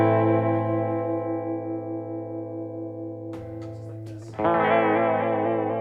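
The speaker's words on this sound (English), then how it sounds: "It's the sound of a warbly record player." Electric instrument through a vibrato effect for a warbly record-player sound, a sustained chord that breaks off briefly and then returns louder with a wavering, detuned shimmer.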